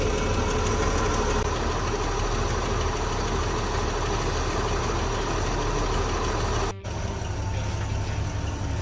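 A Holden VK Berlina barn find idles steadily with its engine running, a loud continuous rumble close by with a faint knocking texture, briefly dipping for a moment before carrying on, and no voices.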